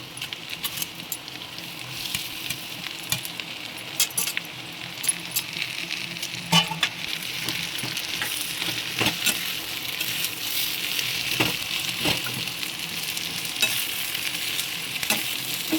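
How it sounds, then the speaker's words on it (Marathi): Onion roasts in a pan with cumin, dry coriander seeds and dried red chillies for a Maharashtrian crab curry, a steady close sizzle broken by repeated sharp scraping and clinking stirs, no talk. "आता आपण याच्यामध्ये ॲड करणार आहोत ते जिरा सुके धणे आणि मिरची सुकी मिरची ॲड करणार आहोत"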